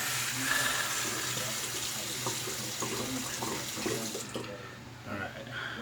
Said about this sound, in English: I'll rinse off the brush a little and that part